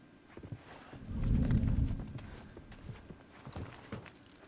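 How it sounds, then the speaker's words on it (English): Footsteps in The Last of Us Part 1 thump and patter in a steady irregular rhythm, with a louder rumbling stretch early on, heard alone without talk. "You can hear the footsteps."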